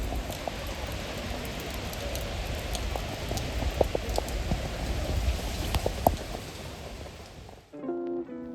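Steady rain falls while someone walks outdoors without an umbrella, a dense even patter with scattered louder drops and taps, ending abruptly in near silence with a faint tonal chime.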